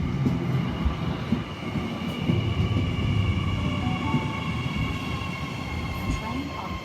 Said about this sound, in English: And here is the first train of the day.